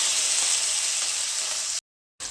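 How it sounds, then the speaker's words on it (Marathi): Masala spices roast in hot oil for a cashew curry, with a steady loud sizzle that cuts off abruptly near the end and then briefly resumes, close up and alone. "याच तेलामध्ये आपल्याला हा सर्व मसाला थोडासा भाजून घ्यायचा आहे"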